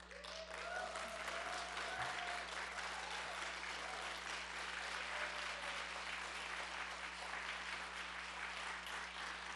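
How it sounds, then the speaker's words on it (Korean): A church congregation at a Sunday service applauds warmly to welcome a speaker, a dense, steady round of clapping that carries on for the whole stretch. "몸을 흔들면서 박수 치는"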